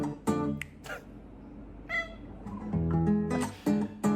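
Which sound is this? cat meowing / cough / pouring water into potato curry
cat meowing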